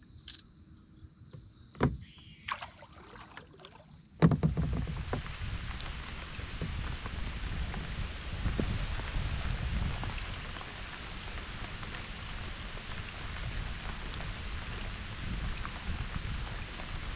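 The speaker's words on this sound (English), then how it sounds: "Rain, wind. I don't think it's going to let up either." Rain and wind on Lake Guntersville during a kayak trip, quiet insect-like chirps and a few knocks at first, then a sudden heavy downpour hissing steadily and loudly on the water and boat.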